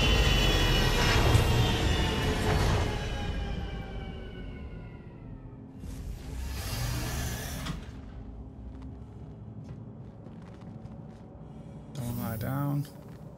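Spaceship engines in the Star Citizen video game winding down, a broad rumbling hum with descending whine tones that fades, then short bursts of system sounds, while a person talks over it.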